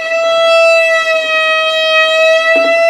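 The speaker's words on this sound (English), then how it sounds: "that's how the vibrato sound comes, drops and comes back" A sustained bowed violin tone whose pitch wavers gently in a slow vibrato, loud and close, with a brief shift near the end.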